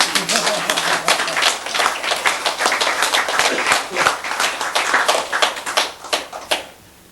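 Audience clapping during a Buddhist sutra lecture, a steady burst of hand claps lasting several seconds before fading out, with some voices underneath.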